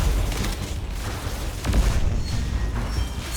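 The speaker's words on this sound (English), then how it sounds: "we got fireworks outside" Fireworks boom outside in Mass Effect 3, deep rumbling blasts with repeated low thuds and crackling bursts that roll on continuously at moderate loudness.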